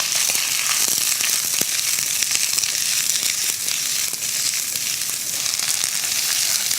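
Carrots and cabbage stir-fry in a hot pan with a loud continuous sizzle and scattered crackles, close and steady with no talking.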